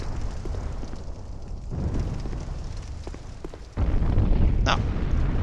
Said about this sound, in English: Let's keep on taking damage from the... what do you call them? Barrages? Projectiles? Explosions?